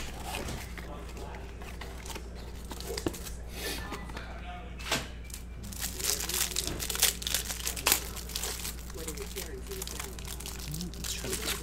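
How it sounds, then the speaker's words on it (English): A baseball card hanger box of 2018 Topps Update is torn open by hand, with crinkling, crunching cardboard and wrapper tearing in bursts that sharpen midway, under ongoing talk. "I think this I just have to tear open with my bare hands."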